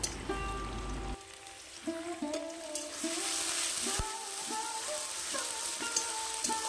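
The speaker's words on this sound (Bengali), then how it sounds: "দেখো পেঁপে আর আলু একসাথে করে প্রথমে আমি ভেজে নিচ্ছি একটু ভালো করে" Papaya and potato frying together in a pan on a clay stove, a steady soft sizzle with light crackle running throughout the clip, with no one talking over it.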